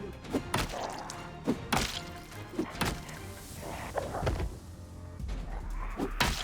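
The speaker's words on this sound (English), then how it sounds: "the amount of Walking Dead roaming around, banging on my doors and windows" Zombies banging on doors and windows in Project Zomboid: repeated heavy thumps and whacks at uneven intervals over a dull, rumbling background.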